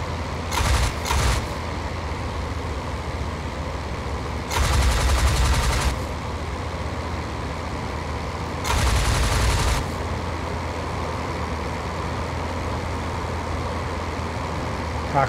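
Machine guns on a biplane in Flying Circus fire in three loud, rapid bursts, each lasting about a second, over a steady droning engine.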